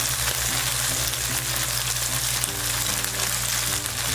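Radish cake pan-frying in a film of salad oil over medium heat gives a steady, continuous sizzle at even loudness throughout, with a low tonal hum running underneath.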